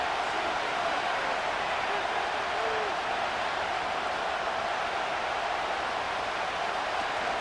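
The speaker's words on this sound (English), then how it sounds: "this crowd is making an impact right now" Stadium crowd in the Madden 25 video game during a Chiefs versus Broncos match, a dense, steady roar of cheering spread evenly throughout, faint owl-like whoops rising briefly above it.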